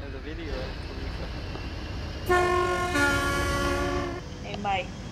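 A train horn in the game Rails Unlimited Classic blares in a long harmonic tone, cutting out briefly and resuming as the train stops, with faint talk before it and over the fading end.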